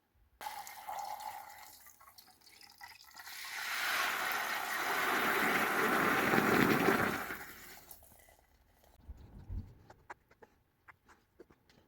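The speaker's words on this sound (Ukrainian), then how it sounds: "Тільки закипить вода з олією і зразу виливаємо в наше борошно." Boiling water mixed with oil is poured into flour in a kitchen, giving a long, steady rushing pour that swells and then fades, with a few soft clinks and taps afterward.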